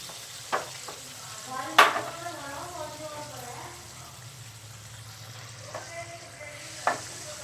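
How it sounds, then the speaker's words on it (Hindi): Spoon scraping as chana masala is scooped from a pan into a serving bowl: a few sharp clinks and scrapes spaced over several seconds, with a soft, low background between them. "मैं इसको बाउल में निकाल रही हूँ।"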